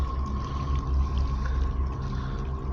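River water flows steadily outdoors during a nature walk, a continuous rushing wash with a faint steady tone running through it.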